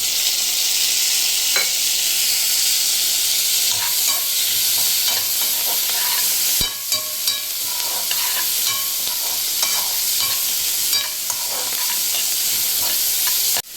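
Onion and tomato sizzle steadily in a hot pan, a loud continuous frying hiss with occasional stirring scrapes and a sharp clack from the utensil.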